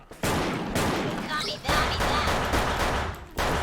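Gunfire in the online shooter Wolfteam, apparently a new M-500 Pro weapon, as dense, loud bursts of shots that run almost the whole time with brief gaps, and the player talks over them.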